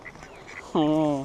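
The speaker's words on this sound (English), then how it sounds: "Got a few ducks there." Ducks quack at a waterside boat launch, a single loud, nasal quack bursting out after a short stretch of quiet background and a brief spoken exclamation.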